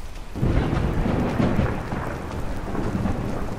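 Steady rain and rolling thunder fill a nighttime town in Markarth from the game Skyrim, a dense, continuous storm wash with deep rumbles swelling throughout and no voices.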